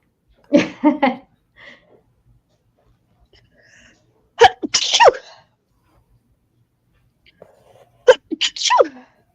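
Three sharp sneezes burst out a few seconds apart in an otherwise quiet room.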